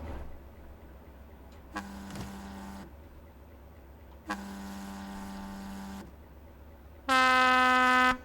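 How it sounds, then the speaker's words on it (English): Three train horn blasts in Train Simulator 2021 on the London to Brighton route, two lower steady tones of about a second each, then a louder, brighter higher-pitched blast, over a constant low engine hum. "Toot my horn."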